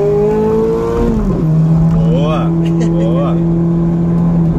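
A Ferrari engine drones at steady revs while being driven through Milan, its pitch dipping once then holding level, with people talking over it inside the car.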